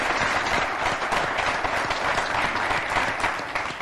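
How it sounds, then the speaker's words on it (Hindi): Audience at a Hindi comedy poetry gathering applauds to welcome poet Dr Sunil Jogi from Delhi, a loud, dense wash of clapping sustained throughout, with no talk over it. "आइए तालियों के साथ उनका स्वागत करेंगे।"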